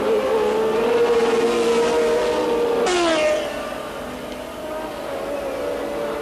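Formula One race cars at the 1981 South African Grand Prix scream past one after another, a loud high engine whine that drops sharply in pitch as the leading car passes close by, then fades to a steady distant drone.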